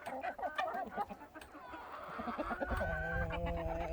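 Pet chickens cluck and murmur close by in a soft, irregular chorus that grows into overlapping, sustained clucks.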